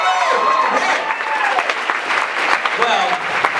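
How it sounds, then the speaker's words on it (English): A crowd applauds a contestant at a school talent show, a loud, dense clapping with scattered cheers that continues steadily for several seconds while a voice talks faintly over it. "Another round of applause for him, please."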